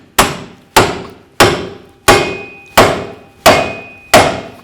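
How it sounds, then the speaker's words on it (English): A hammer drives a pickle fork to break a ball joint free from the steering knuckle on a 2000-2006 Chevy Tahoe: seven loud, sharp metallic blows, evenly spaced about two-thirds of a second apart, each ringing briefly. "Now I'm going to break the ball joint free from the knuckle. I'm going to use a pickle fork."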